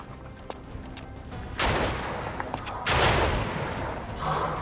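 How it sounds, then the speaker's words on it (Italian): Gunfire rings out in the Fortnite video game, a few separate cracks and then two loud bursts of rapid shots with echoing tails, heard without talk. "Bravo, vedo degli spari."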